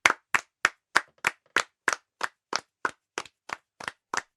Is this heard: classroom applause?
yes